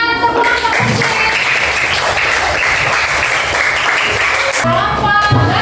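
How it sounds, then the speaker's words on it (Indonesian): A classroom of children claps together in a call-and-response clapping routine, loud busy clapping filling the room nearly throughout, with a brief pause and chatter near the end. "Tepuk tangan, tepuk tangan kucing"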